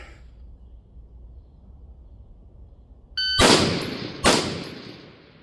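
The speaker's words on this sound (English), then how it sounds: "Sounded like I got both shots off before the report from the first one came back." Two sharp rifle shots ring out in quick succession about a second apart during a timed shooting drill, each a loud crack with a lingering echo after a quiet lead-in with a faint metallic ping.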